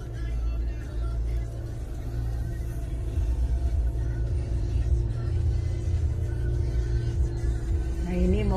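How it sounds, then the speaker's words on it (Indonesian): A green street sweeper truck working a Paris street near the Champs-Élysées gives off a steady low engine rumble amid continuous traffic noise, with voices faintly mixed in. "Nah, ini mobil pembersih jalan"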